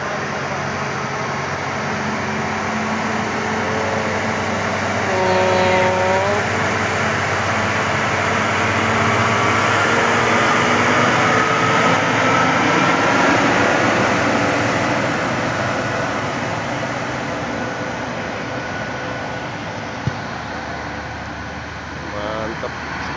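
A Hino truck grinds up a steep hill with a steady, loud engine drone, joined by fainter tonal whines from other vehicles, while wind and road noise fill the background.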